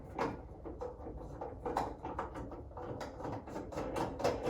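The cap of a US Steam Falcon steamer is screwed back on by hand, giving faint, close plastic clicks and ratcheting scrapes as it turns down its threads.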